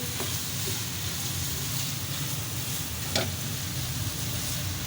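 Beef keema with lemon juice is stirred in a karahi, a dense continuous sizzle with occasional scraping strokes of the spoon against the pan, close and steady.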